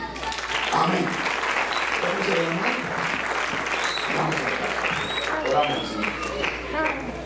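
Wedding congregation at Abel and Irma's ceremony bursts into sustained clapping, a dense crowd patter with voices and cheers rising through it, steady for the whole stretch.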